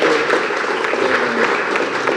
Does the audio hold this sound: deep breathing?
no